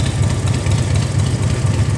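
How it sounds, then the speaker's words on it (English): A passing motorcycle: loud, steady engine rumble dominates, close by, with a continuous low throbbing and no pauses. "Motorcycle go by, right?"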